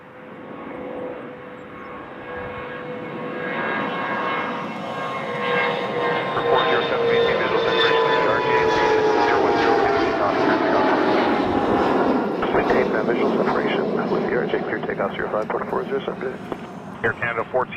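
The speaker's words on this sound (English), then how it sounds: "Here's a CRJ of Air Canada's." An Air Canada CRJ jet at Toronto airport gives a rising, whining engine roar that builds and swells over several seconds with tonal whine, while people talk at points underneath.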